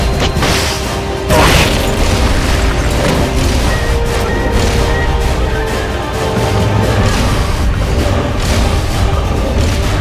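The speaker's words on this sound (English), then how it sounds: "Firing rocket launcher." Rocket launcher firing and exploding in the PS3 video game Metal Gear Solid: Peace Walker, heard as a loud, continuous roar of blasts and rumble with a sharper burst early on, filling the whole stretch.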